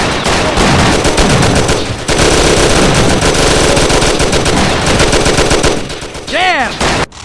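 Sustained, loud machine gun fire from a firefight in the game Mafia: The City of Lost Heaven, rapid bursts running nearly nonstop for about six seconds before a short pause and a final burst.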